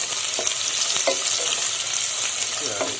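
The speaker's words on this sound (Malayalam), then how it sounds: "ഇനി ഇതെല്ലാം കൂടെ നന്നായിട്ടൊന്ന് വഴറ്റിയെടുക്കുക" Beef liver and chopped green chillies sauté in a pan, a continuous bright sizzle with soft scraping and stirring clicks throughout, close and fairly loud.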